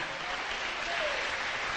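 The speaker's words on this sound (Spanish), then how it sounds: "Den un aplauso al Señor." Audience applause at a Spanish-language religious sermon, a dense, even wash of clapping from a crowd lasting under two seconds.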